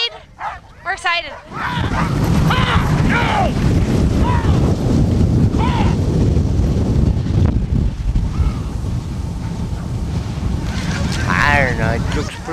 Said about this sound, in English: We got some wind, got some cold temps.